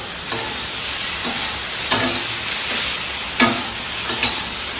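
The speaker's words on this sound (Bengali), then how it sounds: "আলু ভাজাটা এদিকে হচ্ছে, এদিকে ডিম ভাজছি।" Eggs and potatoes frying in pans, a steady sizzle with several sharp scrapes of stirring at irregular intervals, close and moderately loud, no talk.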